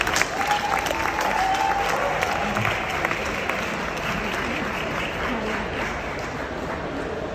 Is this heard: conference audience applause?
yes